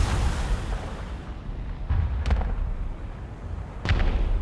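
Artillery strike explosions in War Thunder gameplay, heard as a steady heavy rumble with a few distant blasts, no voices over them.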